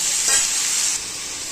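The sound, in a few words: cluster beans (gavar) frying in oil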